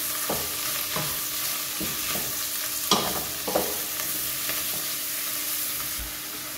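Shrimp shells frying in a pot for a shrimp bisque, a soft continuous sizzle broken by several scraping stirs and clinks of the spoon against the pot, close up with no voices.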